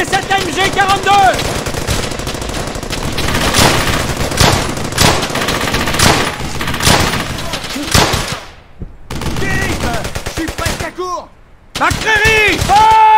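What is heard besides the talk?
gunfire in the video game Brothers in Arms: Hell's Highway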